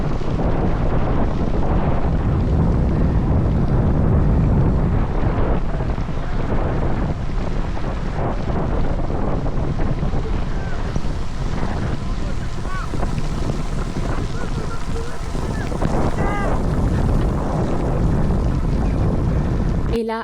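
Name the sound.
wind gusting at a hairpin turn during cycling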